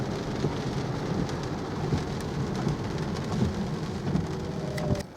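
Rain pours steadily onto a BYD Atto 3 car near Frankton, a dense, continuous patter of drops on the body and glass with occasional louder splats, close and fairly loud, no voices.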